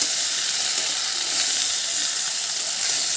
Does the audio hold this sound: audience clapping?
no